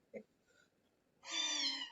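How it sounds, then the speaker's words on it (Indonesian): A cat gives one clear, drawn-out meow at close range after a couple of faint earlier sounds, in an otherwise quiet indoor setting. "Mohon maaf, ada suara kucing."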